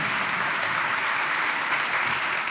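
Conference audience applauding after the first panel at a digital governance event, a dense, even burst of clapping from a seated crowd, loud and uninterrupted.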